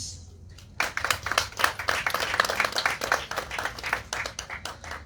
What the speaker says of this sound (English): To me, that requires an applause.